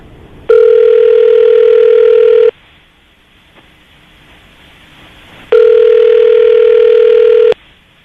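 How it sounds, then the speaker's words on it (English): A telephone call rings out over the line, two long, loud, steady electronic ringback tones separated by a few seconds of near silence, with no talking. "We're going to call her right now, see if we can get her on the phone"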